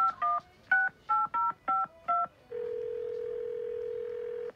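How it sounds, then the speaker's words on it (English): Seven short touch-tone beeps from a telephone being dialed, evenly paced, followed by a steady ringback tone as the call connects, clear and close with no talking. "This is Scary playing the part of Mike and calling Grace's husband, Frank."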